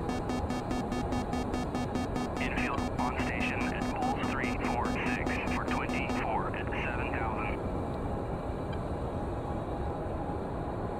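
A fixed-wing aircraft spools up for takeoff from runway 07 in a flight simulator mission, a steady engine roar filling the clip while radio-style voices and beeping tones play over it for the first six seconds.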